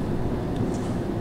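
Circle Line train on the London Underground in a simulator game, a steady low rumble of running carriages with a faint high hiss, continuous and close, no voices.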